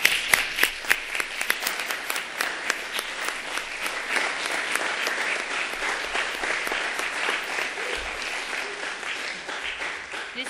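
Sustained audience applause at a statewide high school mock trial competition, a dense wash of many hands clapping steadily for students' parents and teachers, fairly distant in a large hall.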